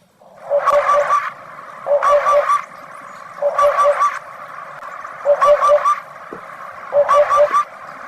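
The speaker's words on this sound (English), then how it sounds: "Cuckoo." A cuckoo call rings out five times in clear, loud, evenly spaced bursts of repeated tonal notes, each group separated by a short pause against a quiet background.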